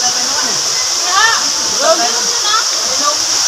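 Steady rushing of flowing water outdoors, a constant hiss running throughout while people talk over it.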